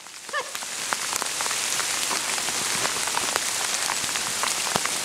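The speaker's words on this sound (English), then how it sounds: "It's raining." Steady rain patters on a surface by a cave, dense and close, with scattered louder drops and a brief small sound near the start.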